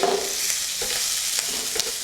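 Garlic and ginger paste sizzles steadily in a hot pan, a close, continuous frying hiss broken by a few soft scrapes as it is stirred, with no voices.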